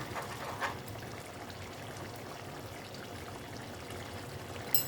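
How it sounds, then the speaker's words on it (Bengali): Ghee poured into a cooking pan for a vegetarian moong dal dish, a soft, steady liquid stream with faint sizzle-like hiss throughout, close and quiet, ending with a small clink. "তারপরে দিচ্ছি আমি ঘি দেখো ঘি দিয়ে দিলাম"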